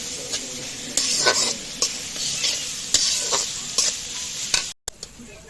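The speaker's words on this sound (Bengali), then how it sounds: "এবার এই পেঁয়াজ রসুন একসাথে সুন্দর করে ভেজে নেব" Onion and garlic frying together in a pan, a loud close sizzle broken by rhythmic spatula scrapes and stirs, with a brief dropout near the end.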